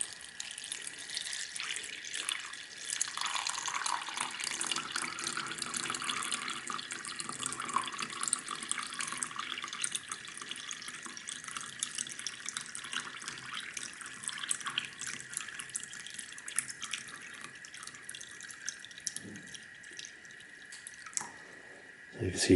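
Liquid holding gold flakes recovered from mobile phones is poured off, a thin trickling and dripping stream running steadily for about twenty seconds, faint and close, ending with a few clinks.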